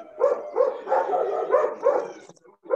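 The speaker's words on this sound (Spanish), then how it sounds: "Ese debe ser el perro de Andrea, no sé, supongo." A dog barks repeatedly in a steady series of about six close, loud barks, with a short pause before a final bark.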